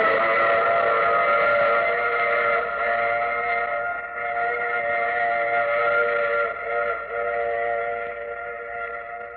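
A steady, loud train whistle used as a sound effect in a 1952 old-time radio mystery drama, a sustained chord of tones that holds for the whole clip with a slight dip midway, with no talking.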